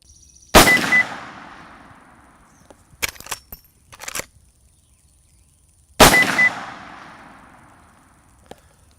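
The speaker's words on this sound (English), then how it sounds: "Now let's load the rifle and get our next round of sighters down range." Two loud rifle shots fired downrange at a target on a range, each a sharp crack with a long decaying ring, spaced several seconds apart, with brief clattering handling of the rifle between them.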